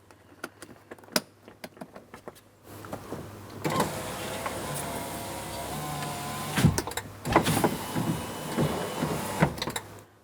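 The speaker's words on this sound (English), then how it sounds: "test the functionality of the window switch, the window regulator, and confirm everything functions properly and the window's not binding in any way" Power window on a 2008-2016 Chrysler Town & Country minivan running after a lock actuator job, preceded by several sharp clicks, then a steady motor whine lasting several seconds with clunks near the end.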